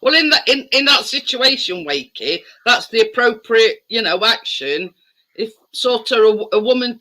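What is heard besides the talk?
No everyday noise stands out behind the speech.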